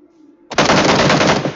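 A loud, sustained burst of rapid automatic gunfire from a PUBG-style shooter game breaks in after a brief quiet stretch of faint background tone and keeps hammering for about a second.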